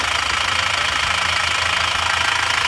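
An Isuzu Panther diesel engine runs with its oil filler cap open, a loud, steady close-up clatter with constant rapid knocking and no voices.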